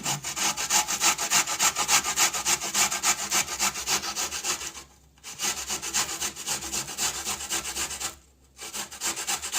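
Fresh coconut meat rubbed against a box grater in fast, rhythmic rasping strokes, close and steady, broken by two short pauses.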